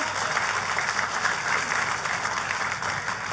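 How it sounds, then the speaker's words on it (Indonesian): Church congregation applauding during a sermon, a continuous wash of clapping at moderate level with no clear breaks, set against a faint steady hum. "Tepuk tangan yang paling meriah buat Tuhan kita."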